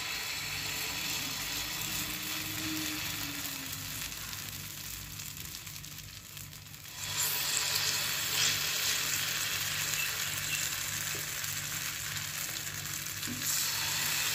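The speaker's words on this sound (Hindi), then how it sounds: "इस पर हम एक एक चम्मच ये बैटर डालेंगे" Spoonfuls of batter for a breadless, flourless pizza sizzle steadily in a hot pan, a continuous close frying hiss that swells a little louder halfway through, with no talking.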